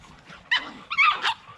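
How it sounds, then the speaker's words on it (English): Dogs at play giving a couple of short, sharp yips and barks close by, brief and fairly quiet over a faint background. "You know, dogs are playing."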